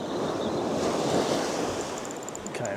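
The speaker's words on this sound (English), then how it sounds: "Okay, we're getting a bit of a wind now." Steady wind roars on an open beach during shore jigging, mixed with the broad wash of surf; a constant loud rush with no voices.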